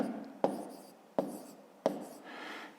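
A math exercise is written out by hand on paper. Three separate taps of the pen come about two-thirds of a second apart, each followed by a faint scratch of writing, quiet and close, with no speech.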